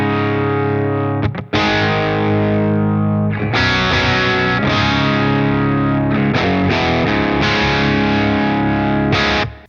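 Electric guitar played through a crunch drive pedal into a Kraken with a touch of reverb, loud sustained distorted chords ringing out, with a brief break near the start and several restrummed changes.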